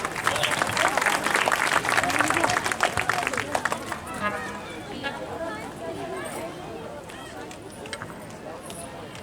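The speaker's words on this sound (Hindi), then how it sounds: "जोरदार तालियों से स्वागत करेंगे आपका।" Applause from an audience of devotees welcoming a spiritual speaker at a mass wedding ceremony, with dense clapping in the first few seconds that fades into crowd chatter and hubbub.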